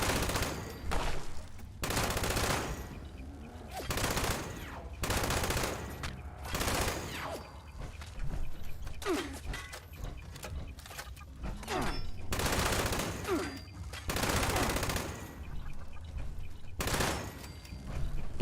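Gunfire in Fallout 76 comes in repeated loud bursts of rapid automatic shots, separated by brief pauses, across a long stretch with background game sounds.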